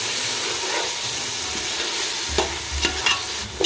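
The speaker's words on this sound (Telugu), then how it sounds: "ఇవన్నీ వేసినాక ఒకసారి మొత్తం మిక్స్ చేసుకున్నామండి" Green chilies, tomatoes and mint stirred in a hot pan for chicken biryani, a continuous sizzle with scraping spoon knocks growing louder toward the end.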